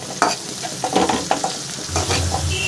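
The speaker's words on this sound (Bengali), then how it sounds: "এবার মশলাটাকে ভালো করে একটু কষিয়ে নেব" Spice masala being sautéed in a frying pan, with soft sizzling under repeated scraping and stirring strokes from a spoon, close and moderately loud, no talk.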